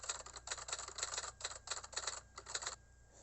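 Classic typewriter keystrokes added as a sound effect in CapCut, quick clusters of crisp mechanical clacks in an uneven rhythm that stop just before the end, faint and with no voices.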